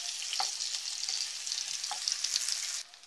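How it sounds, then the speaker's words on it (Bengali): Chopped onion, about half a cup, sizzles and crackles steadily in a hot pan, with occasional stirring clinks, then the frying cuts off abruptly near the end. "এবার পেঁয়াজ কুচিটা আমি সামান্য একটু ভেজে নিব"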